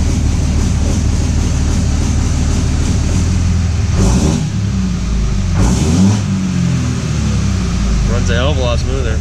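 A truck engine runs steadily and loudly after its fuel pump is primed, a continuous low rumble with a couple of swells in revs, while muffled voices come through in the background.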